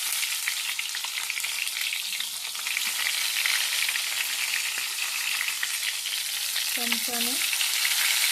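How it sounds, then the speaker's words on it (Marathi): Stuffed eggplants dropped one by one into hot oil, a dense crackling fry that holds steady and loud up close, with a brief spoken word near the end over the sizzle. "आता यामध्ये आपण एक एक वांगे अशा पद्धतीने सोडून देणार आहोत."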